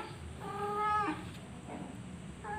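A fierce female cat gives a drawn-out, rising meow followed by shorter, fainter cries, close by against a quiet room background with no talking.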